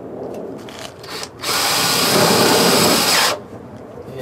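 Power drill whirs steadily as it drives half-inch self-tapping screws into the steel floor pan of a Ford F100 pickup, loud and close, preceded by short taps and handling noise.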